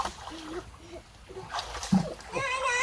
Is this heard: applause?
no